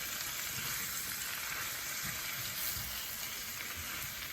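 Tofu frying in garlic butter in a pan, a steady dense sizzle with faint crackles and stirring scrapes, close and continuous.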